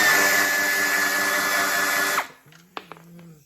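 Small power wrench spinning nuts off a Honda GX200 engine, a loud high-pitched whirring burst for about two seconds that stops abruptly, followed by a few light clicks and clanks of metal parts.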